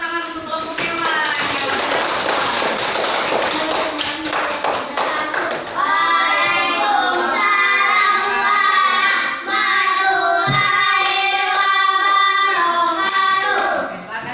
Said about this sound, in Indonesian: berikan tepuk tangan untuk kelompok hewan